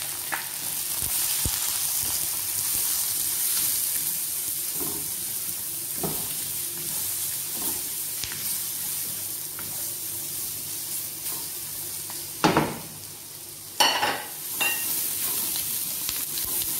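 Onion sweats with spices in a pan, giving a continuous close sizzle and hiss, broken by a few louder crackles and spits from stirring.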